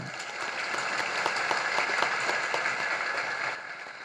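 Listeners at a religious discourse applaud in a steady wash of clapping from many hands, moderately faint and sustained for about four seconds before tapering slightly.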